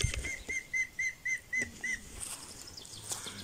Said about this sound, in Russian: Что за птичка была?